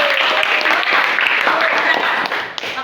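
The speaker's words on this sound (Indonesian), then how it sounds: "tepuk tangan." Clapping in a church gathering fills the room steadily, a dense wash of hands lasting a few seconds, loud and close, with a slight drop near the end.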